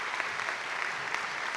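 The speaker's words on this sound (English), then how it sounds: "let's give them a round of applause" Audience at a spring graduation ceremony applauding the board of trustees, a dense, steady clatter of many hands clapping throughout.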